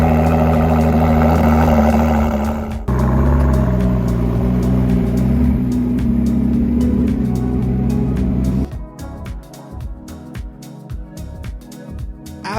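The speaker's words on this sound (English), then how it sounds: "The next step is to fire it up and carefully unload her." A Ford GT supercar runs loud and close on a truck before unloading, its engine droning and rumbling, then cutting to a quieter stretch of lower rumble with clicks and shifting noise.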